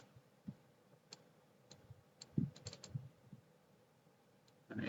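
Sparse, light keystrokes on a computer keyboard while a word is typed into a Canva poster design, a few soft clicks spaced out over quiet room noise, with a slightly louder burst at the end.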